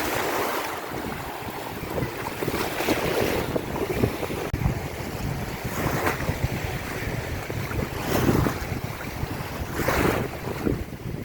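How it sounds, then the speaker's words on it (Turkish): Waves roll and wash in surges against a backdrop of heavy wind buffeting the microphone, with louder swells recurring every few seconds. "dalgalar geliyor."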